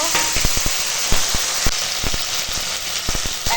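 Chopped onion frying in oil in a pan, a steady sizzle broken by sharp crackles and pops as cut vegetable stems are added for a Bengali curry.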